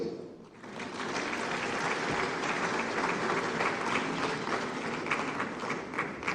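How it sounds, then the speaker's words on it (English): A large conference hall audience at the Afreximbank Annual Meetings claps steadily and loudly throughout, a sustained wash of applause welcoming a Comorian presidential advisor to the stage. "He didn't hear the applause, please."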